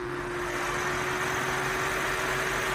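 A 2025 BMW M2 CS engine idles steadily with an even, smooth hum and a constant low drone, heard close with no talking.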